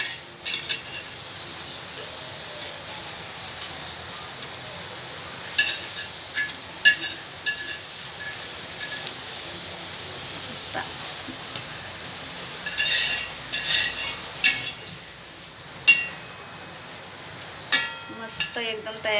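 An egg roll roasts in a pan and is flipped over, giving a steady soft sizzle broken by scattered metallic clinks and scrapes of a spatula against the pan.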